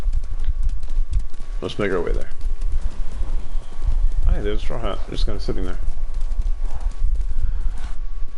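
Horse hooves clip-clop steadily in Ghost of Tsushima while the rider travels toward Umagi Beach, a continuous rhythmic trot running under frequent talking and game music.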